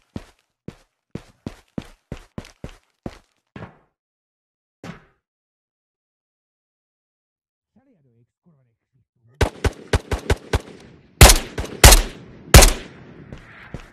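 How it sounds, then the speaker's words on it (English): Gunfire from a Scav in the VR shooter Ghosts of Tabor: a steady run of evenly spaced single shots, a quiet pause, then a louder cluster of rapid shots and heavier nearby blasts. "Okay, Scav's shooting somebody."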